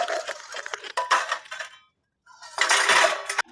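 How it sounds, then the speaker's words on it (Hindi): Dishes, pots and utensils clatter and clink during washing in a home kitchen, in loud, close bursts of metallic knocks separated by a brief pause. "चलो बर्तन धो ली जाए।"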